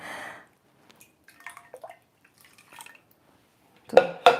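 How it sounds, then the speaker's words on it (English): Coffee and water poured into a chocolate cake mixture in a home kitchen: soft, scattered trickles and drips, then a louder clatter of bowl or utensil near the end. "Coffee and water goes in."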